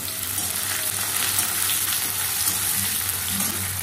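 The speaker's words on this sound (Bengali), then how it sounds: "পেঁয়াজটা দিয়ে ভাজবো।" Onions frying in hot oil with whole garam masala, a steady, close, even sizzle filling the whole stretch with no talking.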